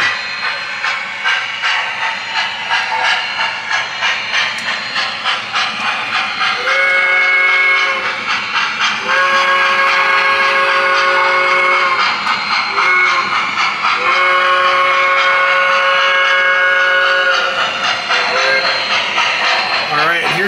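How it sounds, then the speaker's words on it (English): An MTH PS2 Atlantic O-gauge model steam locomotive pulls new freight cars along a layout track, with a steady rolling rumble and repeated long steam whistle blasts, loud and close. "the special locomotive will be rolling in momentarily"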